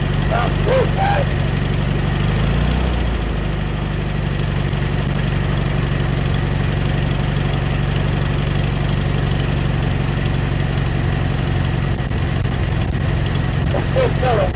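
A fuel pump runs on a 1972 VW Beetle, giving a steady, loud mechanical drone with a low rumble that continues without a break for the whole stretch.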